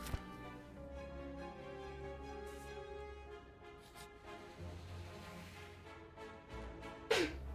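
A single short, sharp sneeze near the end, heard over quiet background music during a relaxed video game stream.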